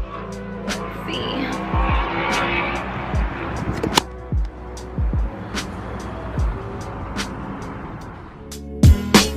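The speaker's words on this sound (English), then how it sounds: "Time for a test drive of a Jetta." A Jetta on a test drive with road noise throughout, tires squealing and skidding at intervals, and a few sharp knocks toward the end.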